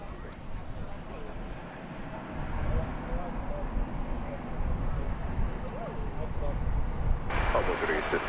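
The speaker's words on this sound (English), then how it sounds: "4931 is about to take off for Mexico City." A jet airliner, Volaris flight 4931 bound for Mexico City, rolls for takeoff at Dallas/Fort Worth Airport, a steady broad engine roar building slightly, heard from a distance with voices talking over it.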